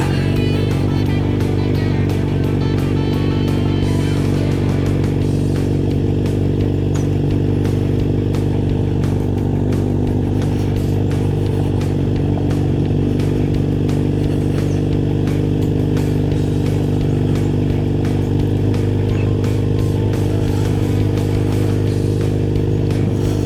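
A Kawasaki Z900RS motorcycle pulls away and rides on, its engine a loud, steady droning rumble held close throughout with occasional shifts in revs, and no voices.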